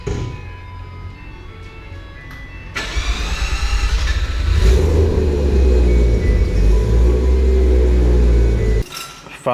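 Mazda FD with a 20B rotary engine on a dyno, idling roughly before a sudden jump in engine noise that builds into a loud, sustained, buzzing rev, then cuts off near the end.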